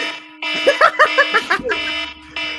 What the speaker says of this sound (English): You need a fucked up alarm to wake you up